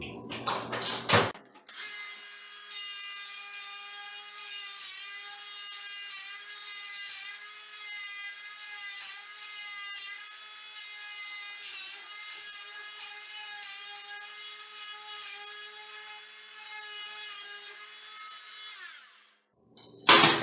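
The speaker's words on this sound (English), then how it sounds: "So I'm taking a Dremel here." A Dremel rotary tool cuts material near a toilet flange on a tiled floor. It gives a steady, high whining buzz for about eighteen seconds, loud and close, with a brief clatter before it starts and after it stops.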